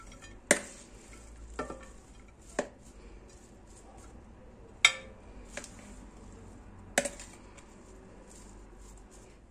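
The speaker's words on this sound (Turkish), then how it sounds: "Salatayı güzelce karıştırdıktan sonra şimdi servis tabağına alıyorum." Celery leaf salad is tossed in a bowl, giving a handful of sharp utensil clinks and taps spaced seconds apart over a quiet background. No one speaks.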